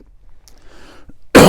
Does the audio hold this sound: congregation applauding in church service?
no